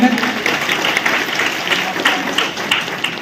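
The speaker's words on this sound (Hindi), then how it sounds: "तालियों से स्वागत।" Audience applause at a Guru Ravidas Jayanti ceremony at a temple in Ayodhya, a dense, steady wash of clapping from a crowd, fairly loud throughout, mixed with voices.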